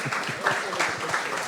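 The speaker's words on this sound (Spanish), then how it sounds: "Un aplauso." Clapping from a crowd at a live talk event, steady and dense, with some voices mixed in beneath the patter of hands.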